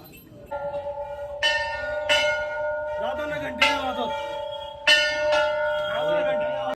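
Temple bells at the Kainchi Dham hill shrine near Nainital ring in several separate, resonant strikes, each leaving a long humming decay, with faint crowd murmur underneath.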